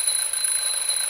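A smoke detector in the adventure game The Journey Down sounds a steady, piercing high-pitched electronic alarm tone that holds unbroken and fairly loud throughout, with no voices.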